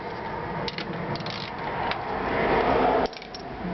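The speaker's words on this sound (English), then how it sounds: "Loosening up the bolts on the outside first before I loosen up the bolts on the" Ratcheting and metallic clicking as bolts are loosened on the drive cover of a Honda NHX110 scooter, a steady close rasping scrape running throughout with a few sharper clicks.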